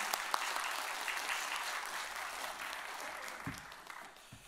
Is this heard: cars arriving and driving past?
no